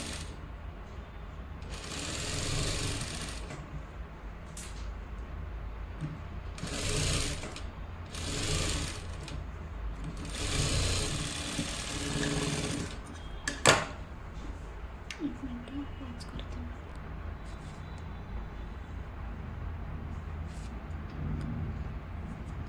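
A sewing machine stitches a blouse lining together in several short runs of whirring stitching separated by pauses, followed by light mechanical clicks and handling.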